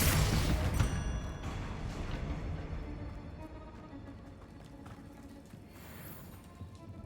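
In Hogwarts Legacy, a Bombarda blasting spell bursts open with a loud explosive crack at the start, then a rumbling, crackling decay that fades over several seconds.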